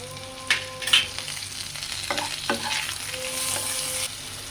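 Chopped tomatoes sizzling and being stirred in a pan for a Bengali mourala fish curry with potatoes, a steady close frying hiss broken by a few sharp spatula clinks and scrapes.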